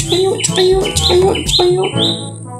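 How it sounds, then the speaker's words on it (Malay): Bright, repeated bird chirps in a quick rhythm, close and clear, with short whistling calls recurring every half second or so, in a Roblox video game. "Ada bunyi burung guys."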